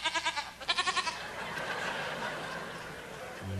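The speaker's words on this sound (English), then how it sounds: "Are the sheep ready?" Sheep bleat in a rapid, wavering series of calls on a television variety show stage, two quick bursts close together before a steady crowd murmur takes over.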